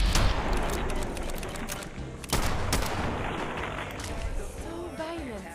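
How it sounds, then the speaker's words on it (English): Rapid video-game gunfire in Fallout 4 VR as a rat is shot: several sharp bursts of shots in quick succession, with a voice talking in between. "Shooting at that rat"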